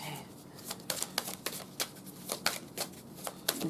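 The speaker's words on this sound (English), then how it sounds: "one more shuffle and we're good" Rapid riffle of playing cards being shuffled, a quick series of crisp flutters and snaps close by, with no talking.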